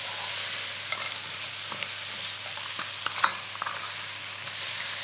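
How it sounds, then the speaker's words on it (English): Dried chilies and spices stirred in a hot frying pan for a crab bisque, a continuous gentle sizzle broken by light scrapes and a couple of sharper taps, close with no voices. "Give that all a stir in."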